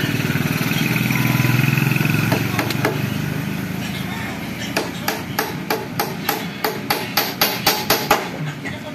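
A small nail is driven by hammer during a DIY widowhood build, about a dozen sharp, evenly spaced close-up blows in the second half after a stretch of background noise and talk.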